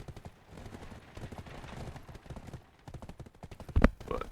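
Horse hooves clip-clopping in the Black Desert Online video game, a steady rapid trot of hoofbeats close by, ending in a louder sharp thud near the end, with no talk.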